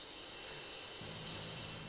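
A Harrier jet flying in the shooter game Modern Warfare 2, a faint, distant, steady engine whine with a low hum that strengthens slightly partway through, continuous and not close.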